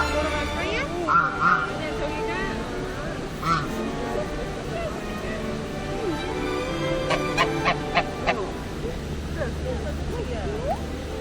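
Geese honk and quack in short repeated bursts, some near and some farther off, while people talk over a steady low outdoor hum.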